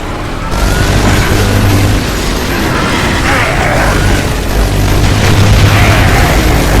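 Rocket explosions in Gears of War 3, a loud, sustained rumbling roar of blasts and booming, very close and dense, with heavy low-end pressure throughout.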